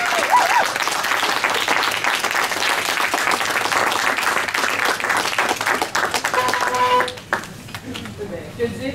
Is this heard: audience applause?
yes